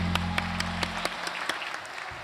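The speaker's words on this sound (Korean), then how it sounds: "우리 하나님께 영광의 박수 보내드리겠습니다" Church congregation applauding in praise after a hymn, steady crowd clapping with sharper individual claps standing out, as a held low organ tone fades away in the first second.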